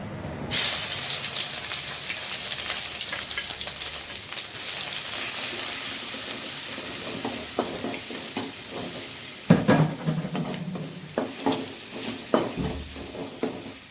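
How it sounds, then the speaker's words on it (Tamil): Crushed shallots, garlic and curry leaves drop into hot oil and fry with a loud, steady sizzle, joined by close stirring scrapes and clatters that grow busier toward the end. "இந்த சின்ன வெங்காயம் பூண்டு கருவேப்பிலை இதெல்லாமே தட்டி வச்சுருக்கோம் பார்த்திங்களா அதை சேர்த்திக்கலாம்"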